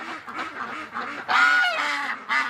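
Ducks quack on a winter pond during courting activity, a run of nasal, raspy calls close by with one louder, drawn-out honking quack partway through.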